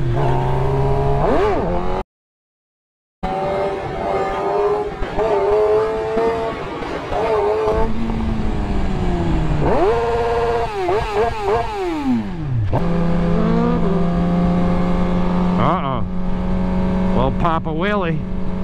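A motorcycle revving hard while riding a wheelie, loud close engine note climbing and dropping through repeated throttle sweeps, with a brief dropout and a rider's voice over it.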